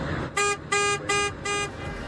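Four loud, close car horn honks from a Fiat 500e in an evenly spaced rhythm, each a bright steady tone lasting about a quarter second, with faint background noise between them.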